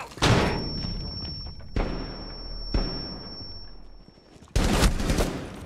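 A flashbang grenade goes off in a video game, heard as several sharp, loud blasts with ringing decay, separated by quieter gaps, and no speech.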